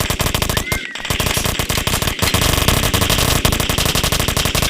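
Gunfire in the video game Dude Theft Wars: rapid, loud bursts of shots in dense rhythmic volleys with only brief gaps, continuing throughout.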